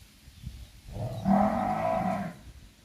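A single deep, drawn-out low from a young male buffalo, close and loud, lasting over a second against quiet outdoor background.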